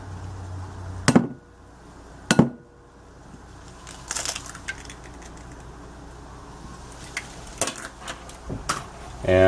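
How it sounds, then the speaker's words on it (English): A fork or whisk clacks against a bowl while an egg is beaten, sharp scattered clinks and a few louder knocks separated by quieter scraping. "beating at least until the yolk is broken."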